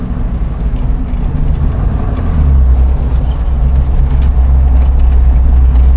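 A 1980 Chevy Blazer with original paint drives off-road, its engine a loud, steady low rumble that swells slightly partway through, with no voices.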